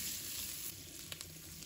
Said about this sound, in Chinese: 再把蒜苔也倒入锅里，开大火快速的把它翻炒均匀